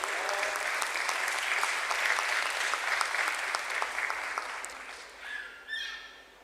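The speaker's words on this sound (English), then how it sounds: "Let us have a resounding of claps for the agency Concept Communication Limited." Applause from an audience at a stock exchange listing ceremony for Aeroflex Industries, a dense sustained wash of clapping that tapers off near the end, with a few brief voices.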